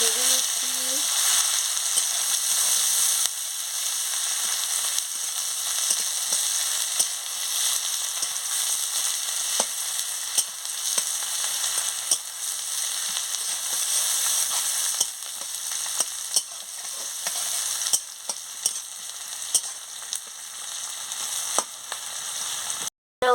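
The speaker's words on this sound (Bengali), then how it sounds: "এবার আমি পেঁয়াজ কুচিটাও দিয়ে দিচ্ছি দিয়ে ভালো করে" Chopped onion sizzles steadily in hot oil for an egg curry, a loud, continuous frying hiss with occasional clicks and scrapes of stirring throughout.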